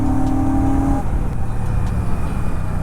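Royal Enfield Classic 650 motorcycle engine running close by, a loud, steady low rumble that holds throughout with no clear rise or break.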